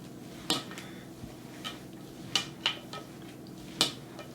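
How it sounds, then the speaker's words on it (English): A spoon scrapes and clinks against a bowl while homemade meatball mixture is stirred together, a few sharp, sparse taps over a soft, quiet background. "Mix it all up, stir it up all together"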